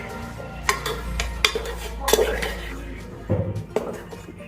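Sesame ladoo mixture being stirred with a spoon of ghee in a metal pot, with scraping and clinking of the spoon against the vessel in several sharp knocks over a steady low background.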